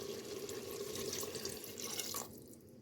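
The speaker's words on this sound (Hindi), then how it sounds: "अब हम इसमें 1 कटोरी पानी ऐड कर देंगे" Water from a bowl pours steadily into a mutton curry as it cooks, giving a continuous splashing rush for a couple of seconds that stops abruptly near the end.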